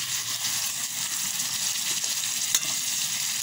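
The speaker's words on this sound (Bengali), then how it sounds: "এবার পেঁয়াজটা ভাজবো" A large batch of onions fries in a pan with a loud, continuous crackling sizzle, steady and close, with a single sharp utensil tap partway through and no voices.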